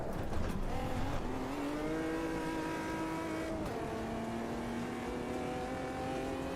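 A race car engine in the game Automobilista 2 revs and climbs in pitch, shifts, then rises again, a steady mechanical whine at moderate volume without speech.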